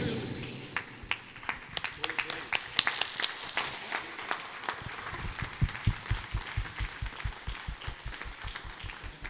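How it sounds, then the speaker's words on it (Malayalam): Applause from guests at a 50th birthday celebration held at home among artists, with dense clapping and sharp individual claps building into a steady rhythmic beat toward the end, voices mixed in. "ഡാവിഞ്ചി സുരേഷിന് നമുക്ക് നല്ലൊരു കൈയടി കൊടുത്തപ്പോൾ അതിനേക്കാൾ വലിയൊരു കൈ കൊടുക്കണം"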